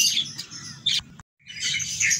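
Five-week-old lovebird chicks squawk while being hand-fed: loud, harsh, raspy bursts close to the microphone, broken by a brief silent gap before the begging cries resume.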